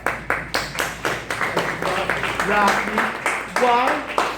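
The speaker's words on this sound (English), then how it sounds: "I want to give you an applause." An audience at an ibogaine conference applauds a crystal meth working group with rhythmic, evenly spaced claps that are loud and close. Voices talk over the clapping throughout.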